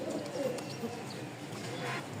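A crested giribaz pigeon of the Rajshahi breed with feathered feet gives a few low, soft coos, close by but fairly quiet, over a light background with faint voices.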